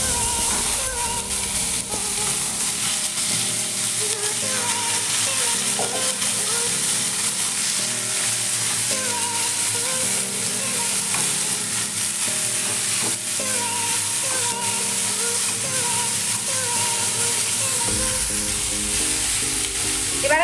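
Raw mango pieces fry in hot oil with Bengali five-spice for a chutney, giving a loud, continuous sizzle with crackling spits and occasional stirring scrapes throughout.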